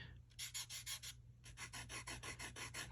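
A hand rubbing back and forth across the coarse, gritty face of a counterfeit Selkirk Luxx Control Air pickleball paddle bought on eBay, giving close rhythmic rasping strokes in two quick runs with a short pause between.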